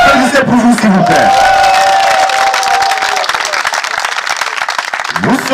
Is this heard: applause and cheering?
yes